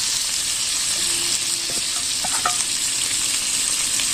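Fried prawns sizzle and crackle steadily with spices in a wok over low heat, with a few light stirring clinks and scrapes near the start.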